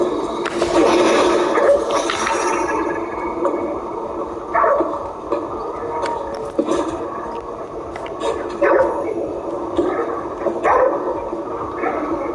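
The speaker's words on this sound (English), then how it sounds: "We have a dog." A dog barks repeatedly in Ghostwire Tokyo, the sharp yaps rising intermittently over a steady, loud game ambience and background noise.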